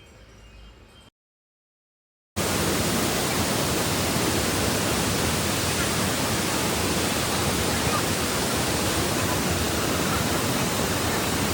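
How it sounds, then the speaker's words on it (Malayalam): Cheeyappara waterfall on the road to Munnar roars as a dense, steady rush of falling water, loud and unbroken after a short quiet gap at the start. "ഞങ്ങൾ പോകുന്ന വഴിയിലായിരുന്നു കേട്ടോ ചിയാപ്പാറ വാട്ടർഫോൾസ്."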